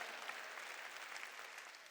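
A church congregation applauds during a sermon, a broad wash of steady clapping from many hands, somewhat distant and even throughout, with no clear talk.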